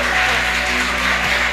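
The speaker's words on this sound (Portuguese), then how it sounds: "Aplauda bem forte ao Senhor." Congregation in a church applauding the Lord, a steady wash of clapping that fills the space evenly throughout, with no voices rising above it.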